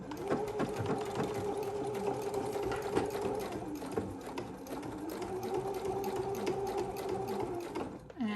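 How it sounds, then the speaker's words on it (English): Sewing machine running steadily for several seconds as it stitches binding onto a quilted box bag, a close, continuous mechanical whir with a brief pause near the end. "I'm going to go back over to the machine and get this sewn in place."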